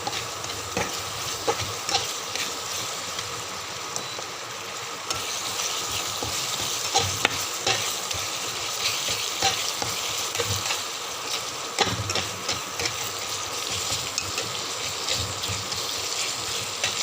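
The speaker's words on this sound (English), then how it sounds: "So let it fry for a while." Ground fish masala curry ingredients, Andhra style, sizzling and frying steadily in a pan, a continuous close crackle with occasional stirring scrapes, no talk.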